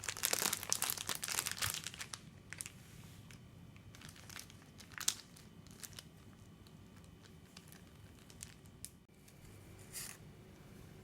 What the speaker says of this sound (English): You cut a corner of the Ziploc bag 4 to 5 millimeters long